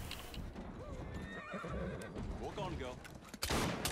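Horse galloping and whinnying in Assassin's Creed Syndicate, with steady clip-clop hoofbeats and a distinct neigh over a busy game soundscape, ending with a sharp burst near the close.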